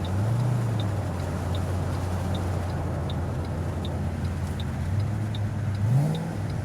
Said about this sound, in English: Listen to that blower.